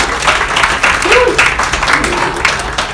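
Audience applause at a live corporate mentalist stage show, a steady wash of clapping from a crowd with a voice briefly talking over it.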